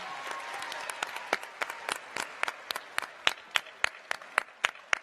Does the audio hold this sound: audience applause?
yes